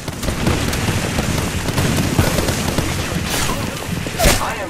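Grenade blast in the Apex Legends battle royale game, a loud burst near the end amid a continuous barrage of gunfire and other combat noise.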